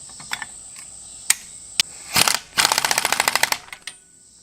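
A bolt on a Hayabusa motorcycle clutch is tightened with a ratcheting tool: a few isolated clicks, then a brief whir and a fast burst of rapid ratchet clicks, close and fairly loud, with no talking.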